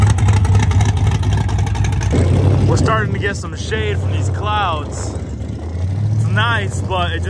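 At an outdoor drag racing event with small-tire cars, big-tire cars and trucks, a loud vehicle roars away from the line and its engine note fades. Several people talk over the engine noise that follows.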